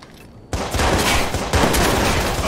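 Sustained gunfire in the video game Watch Dogs, a loud dense burst of rapid shots that begins abruptly after a brief quiet lead-in and continues unbroken to the end.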